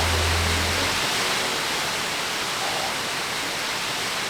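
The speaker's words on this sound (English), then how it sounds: "We knew that we were going to find waterfalls, but it's not until there is one right there in front of your eyes" A wilderness waterfall roars in a steady, broadband rush close by, loud and unbroken throughout, with a brief low rumble at the very start.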